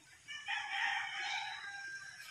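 A single rooster crows once, drawn out and fairly faint, heard alone against a quiet outdoor background at night.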